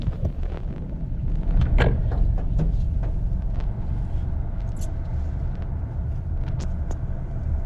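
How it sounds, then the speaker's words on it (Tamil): An automatic car pulls away and turns right, a low steady engine rumble with a few light clicks and knocks from inside the cabin, no talking. "இப்போ நான் அந்த வண்டி வந்து ஓட்ட போகிறேன்"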